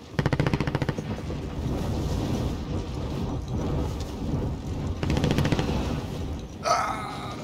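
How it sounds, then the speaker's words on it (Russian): Gunfire in the video game Warzone, a dense rumbling barrage of shots that sounds like thunder, steady and heavy throughout, with a sharper burst near the end. "там стрельба!"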